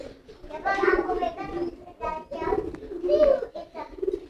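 A racing pigeon coos in repeated throaty, burbling phrases while courting, close by and fairly loud, with people talking over and between the calls.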